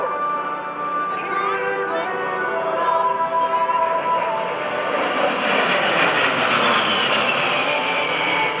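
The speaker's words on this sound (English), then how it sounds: "the United States Air Force A-10 Thunderbolt II," A United States Air Force A-10 Thunderbolt II jet passes overhead at an air show, its loud engine roar swelling steadily and filling the air over a background of crowd and announcer noise.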